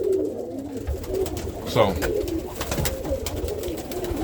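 Roller pigeons coo in soft, repeated low throaty calls close by, with a voice briefly speaking over them.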